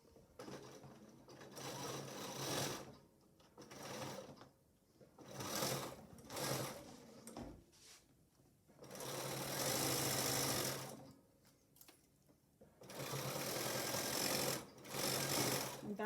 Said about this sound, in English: I'm going to sew this one just like I sewed the other one.